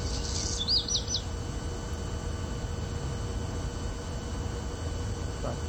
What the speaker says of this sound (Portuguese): Outro exemplo que eu coloco aqui é um pássaro.